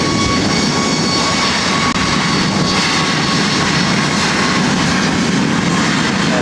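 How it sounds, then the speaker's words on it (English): A Southwest Airlines Boeing 737 MAX 8 takes off at LAX, its engines roaring in a loud, sustained broadband rumble and hiss that stays steady and close throughout. "This is Southwest Airlines 1183 taking off to Oakland on a MAX 8"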